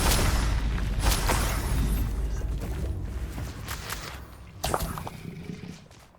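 A Bombarda spell goes off in Hogwarts Legacy, a loud deep boom that rolls into a long fading rumble, with a second smaller crash near the end.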